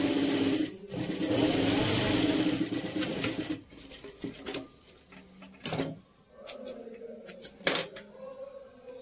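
A sewing machine stitches fabric for a home-sewn garment with an invisible zipper. It runs in one steady, close run of several seconds, then breaks into shorter start-stop bursts, with faint speech in the background.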